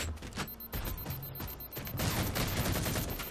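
Heavy sticky launcher fire in the Halo 4 video game, a rapid burst of booming shots and mechanical clatter amid a dense online team slayer battle.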